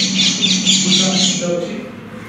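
A rose-ringed parakeet gives harsh, repeated squawks in a quick, uneven series. The calls sound fairly close and loud over a low background hum.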